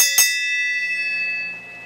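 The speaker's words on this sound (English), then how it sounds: "let me ring the bell." A single bell is struck once, ringing out clear and close with a bright metallic tone that decays slowly over about a second and a half, with no talk over it.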